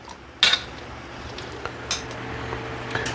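Metal spoon clinks and scrapes inside a pot of thick green tomato chutney: one sharp clatter near the start, then a few lighter taps and scrapes, close and alone.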